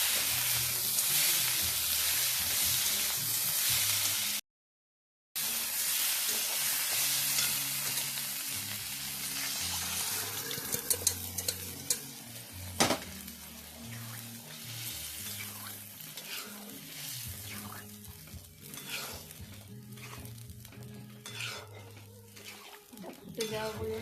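Fish heads fry in a pan with ghee and whole garam masala, a continuous bright sizzle punctuated by scraping and clattering as they are stirred, with a brief gap of silence early on.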